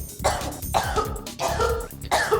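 A smoker gives several harsh, chesty coughs in quick succession, close and loud, with brief gaps between the fits.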